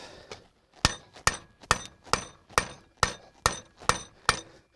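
A heavy hammer of about 1.5 to 2 kilograms strikes metal in a steady run of about nine sharp, ringing blows, close and loud, with lighter taps between them.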